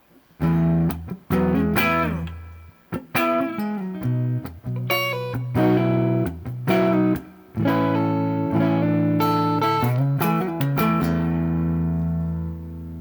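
A PRS Custom 24 35th Anniversary electric guitar with reverb plays phrases mixing strummed chords and picked notes, with a spacious reverb tail lingering after each phrase and a long ringing final chord.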